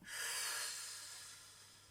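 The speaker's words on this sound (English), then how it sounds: "breathing in, breathing out" One slow, soft breath, rising and then gradually fading, heard alone and close.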